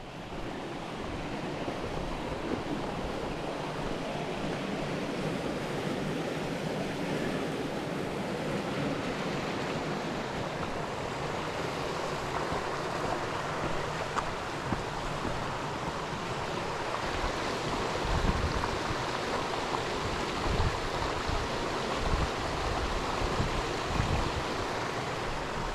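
A river rushes near a swimming hole along the Rocky Branch Trail in New Hampshire's White Mountains, a steady broadband roar of flowing water, continuous and fairly close, mixed with some wind noise.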